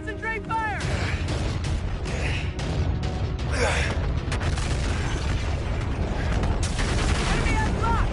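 Gunfire and missile explosions boom and crackle through a Call of Duty Infinite Warfare battle, sustained and loud under urgent shouted voices.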